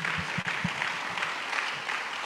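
A church congregation claps for itself at an apostolic and prophetic summit session, a steady dense wash of applause filling the hall with low thumps underneath and no voices.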